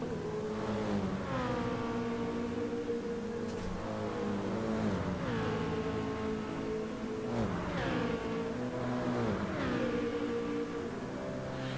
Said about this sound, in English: Get that big old throaty twin turbo V8, and then you hear that little M3 engine.